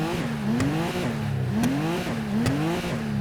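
Stock engine of a custom car in a racing video game revving up and down three times in a row, each pitch sweep rising then dropping back, loud and steady with no talking.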